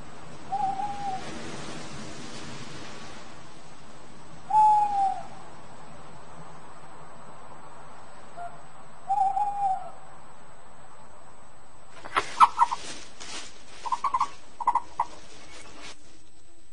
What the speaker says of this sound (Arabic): إنه الظلام، وبوم الحظيرة خارج للصيد.